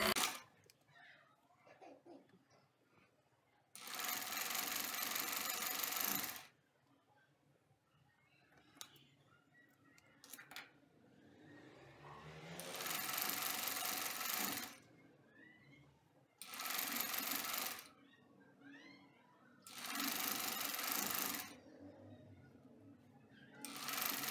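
Sewing machine stitching the hem of a baby top: five loud whirring runs of a few seconds each, close by, separated by quieter gaps with faint handling noise and no clear talk.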